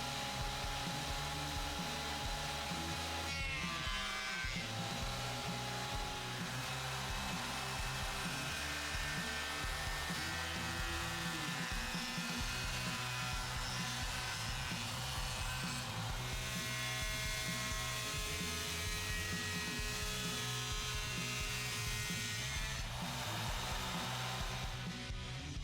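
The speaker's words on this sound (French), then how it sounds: "je dégauchis et je rabote pour en tirer le maximum de cette planche" Jointer and planer running loud and steady as they machine a board of wood for a custom guitar neck, a continuous motor drone with cutter noise that swells and shifts as the stock feeds through.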